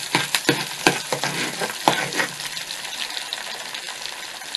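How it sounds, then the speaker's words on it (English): Onions hit hot bleached palm oil for an ayamase (ofada) sauce, giving a close, steady frying sizzle with several sharp clinks and scrapes of a spoon early on, then a settled hiss with no talk. "now that the oil is hot, the next thing you want to add is your onions"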